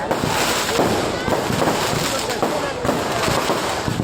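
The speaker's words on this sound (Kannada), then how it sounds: "ಇದು ಪಟಾಕಿ ಹೊಡೆತ" Firecrackers bursting at a village festival in Magoda, Yellapur, a dense continuous crackle of sharp pops filling the air over distant voices.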